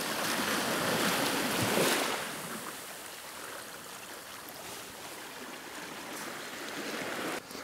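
Water cascades over rocks at Yellow Cray Beach as a continuous broad wash of surf, loud and close, with a fuller surge near the start before it settles into a steady roar.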